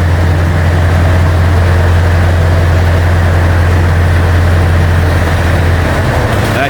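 A Scania 143 V8 heavy wrecker runs with its PTO engaged, a loud, steady low rumble that holds unbroken and close throughout.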